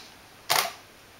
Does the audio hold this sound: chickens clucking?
no